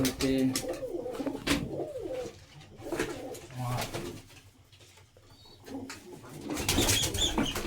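Pigeons, including young birds, coo repeatedly in a loft, soft throaty calls overlapping at close range, with a few wing flaps and people talking over them.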